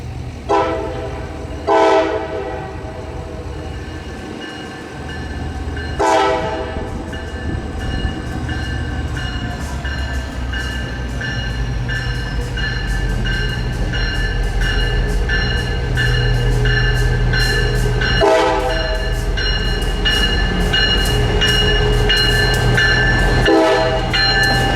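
CSX geometry train rolling past on the Florida A-Line, with several loud horn blasts spaced across the pass and a steady rumble and wheel clatter that builds as it draws near.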